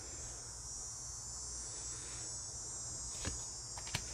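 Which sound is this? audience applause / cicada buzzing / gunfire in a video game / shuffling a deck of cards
cicada buzzing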